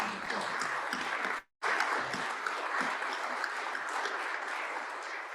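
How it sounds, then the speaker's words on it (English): Applause at an anniversary dinner fills a large room, dense and sustained, broken by a brief silent gap partway through before the clapping resumes at the same level. "Another round of applause."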